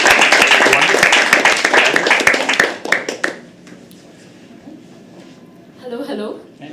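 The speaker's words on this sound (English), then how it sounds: "Okay, keep clapping." Dense clapping from an audience at a live poetry open mic, loud and rapid for about three seconds, then tapering off into quiet room tone before a voice speaks near the end.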